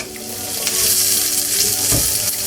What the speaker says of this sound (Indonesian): Langsung kita masukin bayam sama jagungnya tadi. Kita tumis dulu